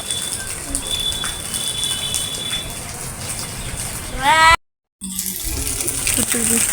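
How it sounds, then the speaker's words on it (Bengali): Accumulated rainwater is thrown off a flat rooftop on a rainy day. Water splashes and pours continuously at close range, with a short gap of silence before the sound resumes. "এখানে প্রচুর পরিমাণে পানি জমছে সেই জন্য পানিগুলো ফেলে দেওয়া হচ্ছে"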